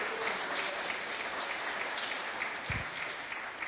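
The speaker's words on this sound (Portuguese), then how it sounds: "Vamos dar uma salva de palmas a Jesus, porque Ele merece, né?" Church congregation clapping for Jesus during a sermon, an even, continuous patter of many hands with a brief low thump near the end.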